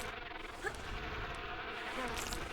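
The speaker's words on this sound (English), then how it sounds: "That damn wasp trying to kill me." A wasp buzzes in the video game Tomb Raider 3, a thin insect drone running steadily and faintly through the whole stretch with no talking.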